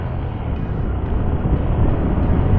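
A carbureted Honda RS125 motorcycle riding on a road, its engine a loud continuous drone with steady wind rumble, close and unbroken throughout.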